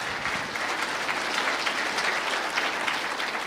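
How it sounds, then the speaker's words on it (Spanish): Steady, fairly soft applause from a church congregation, a continuous patter of many clapping hands that holds even for a few seconds with no speech over it. "Fuerte aplausos a Cristo"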